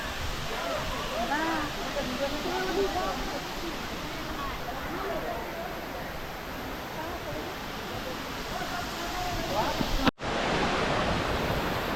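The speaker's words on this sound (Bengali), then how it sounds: "আপনারা আমার ব্যাকগ্রাউন্ডে যে ওয়াটারফলসটি দেখছেন এই ওয়াটারফলসটির নাম হচ্ছে ওলানি ওয়াটারফলস" Water pours steadily over a waterfall in Jharkhand, a dense continuous roar with wind buffeting the microphone, voices talking over it, and a brief dropout near the end.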